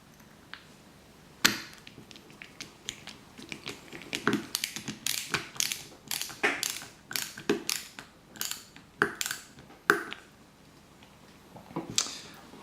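A small BP screw is driven into the wheel rim of a DeLorean scale model, making a series of close, dry ticking and clicking taps with a steady ratcheting rhythm and brief pauses.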